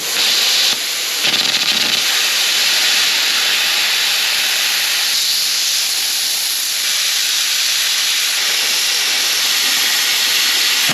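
A pilot arc plasma cutter slices through 12 mm metal with a loud, steady, hissing roar that runs almost without a break, dropping out only briefly near the start.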